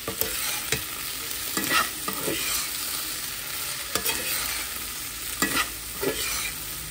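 Sago stirred into fried potatoes and carrots in a pan, with steady sizzling under repeated scraping strokes of a spoon against the metal, close and fairly loud, no speech.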